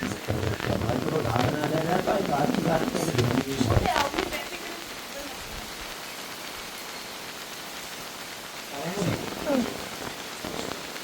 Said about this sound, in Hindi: लेकिन बारिश बहुत तेज हो गई